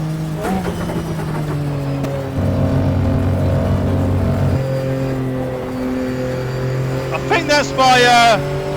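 Race car engine in the GTR video game dropping a gear at Eau Rouge, a steady loud engine drone that shifts pitch with a brief rev burst near the end, under someone talking.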